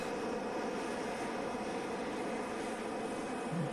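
Concorde flying in Kerbal Space Program, a steady broadband roar of engine and air noise held at constant level throughout, with no talking.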